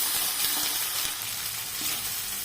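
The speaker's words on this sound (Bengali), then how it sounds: "একটু হলুদের গুঁড়ো দিয়ে এটাকে ভালোভাবে কষতে হবে।" Turmeric and spices frying in a pan for ghugni, a steady broad hiss of sizzling oil running without pause, fairly soft and even, with no voices.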